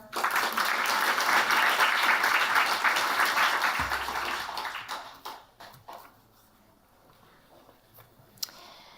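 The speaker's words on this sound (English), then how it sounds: "Can we have a round of applause for her?" A dense, loud round of applause from a summit audience at the Jerusalem Post Women Leaders Summit fills the first five seconds, then thins out and fades to scattered claps and quiet.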